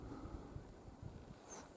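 Steady wind blowing through the taiga near a narrow upper river in winter, a continuous rushing hiss with low buffeting gusts against the microphone, close and moderately loud, without speech.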